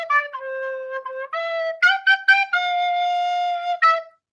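A recorder plays a short phrase of Oh When the Saints, clear sustained pure notes in a simple rhythm, some short tongued notes and longer held tones, close and alone.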